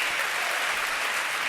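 Studio audience on a French television talk show breaking into dense, continuous applause, a steady wash of many hands clapping at once, loud and even with no pauses.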